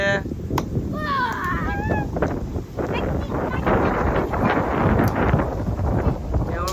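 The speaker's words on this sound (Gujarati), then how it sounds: "કેવો ઠંડો પવન છે" Strong wind buffets and roars across the microphone throughout during a summer rainstorm, with a person speaking under the cold gusts and a few faint bird calls early on.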